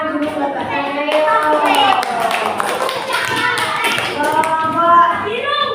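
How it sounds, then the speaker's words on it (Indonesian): Applause from a group breaks out and continues steadily, mixed with children's voices and chatter throughout. "Beri tepuk tangan dulu buat Mbak Nanda."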